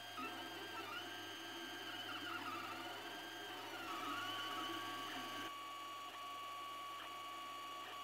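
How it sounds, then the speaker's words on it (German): An Ender 3D printer hums and whines steadily with busy mechanical stepping tones, faint and continuous, no voices. "Der Drucker beginnt mit seiner Arbeit, sobald die Temperaturen von Hotend und Druckbett erreicht sind."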